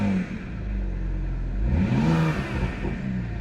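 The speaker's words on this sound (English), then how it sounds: "Maybe I should just keep it in the driveway and just rev it." A BMW's engine revs up in a driveway, rising into a loud, throaty roar with a building surge near the middle before settling back, steady engine rumble throughout with no talking.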